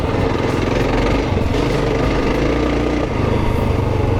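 Kawasaki KLR650 dual-sport motorcycle ridden hard on an off-road trail, its single-cylinder engine roaring loud and steady up close, with rising and falling revs over continuous wind and rumble.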